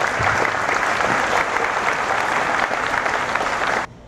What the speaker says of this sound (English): Can we give these two a round of applause, please?